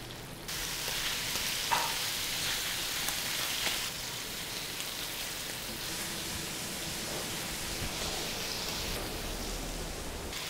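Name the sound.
garlic paste and liver frying in oil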